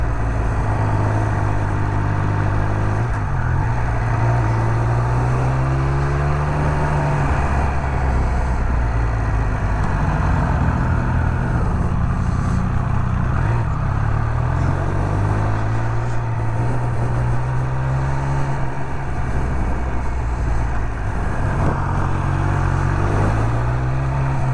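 Triumph Speed Triple 1200 RS naked motorcycle under way, a loud continuous engine drone that rises and falls through repeated gear changes as the bike accelerates, with steady wind rush throughout and no talk.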